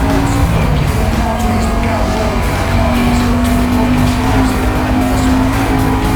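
A Mercedes CLK 500 races in the video game Need for Speed: Most Wanted, its engine holding a steady loud drone with shifting tones and faint tire noise throughout.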